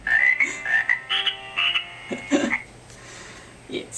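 A singing frog birthday card plays happy birthday, its electronic melody sounding in short tonal phrases mixed with croaking frog voice effects, close and fairly loud.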